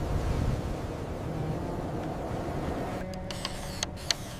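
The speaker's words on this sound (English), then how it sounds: "The Western Tornado is a bit too windy, Alfred!" Steady, rushing air from a giant fan driving an 1870 pneumatic subway train in New York City, a continuous roar with a few faint clicks near the end.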